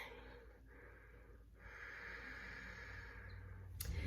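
Slow, deliberate breathing during a children's yoga breathing exercise, a soft, faint airy inhale and exhale with a longer breath drawn out toward the end.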